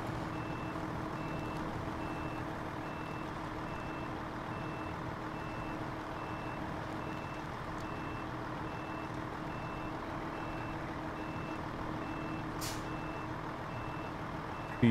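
Steady electronic reversing beeps from a truck in the game SnowRunner, repeating at an even rate over a continuous engine rumble, with no talk.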